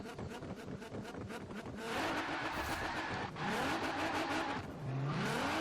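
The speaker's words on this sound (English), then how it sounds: "Once that boost comes on, those tires are just spinning." An R35-swapped Nissan Sentra NISMO in the Forza Horizon 4 video game launches: a pulsing idle builds into a loud, sustained engine roar with rising revs, spinning tires squealing over it and a brief shift dip midway.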